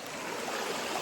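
Creek water flowing at Rocky Fork State Park, a soft, continuous babble and trickle heard close by, with no talking.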